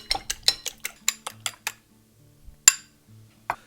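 Eggs whisked in a bowl with a utensil, a quick steady run of close clicking taps on the bowl that stops, followed by a few isolated louder clinks.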